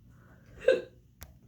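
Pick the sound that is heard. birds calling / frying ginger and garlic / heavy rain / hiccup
hiccup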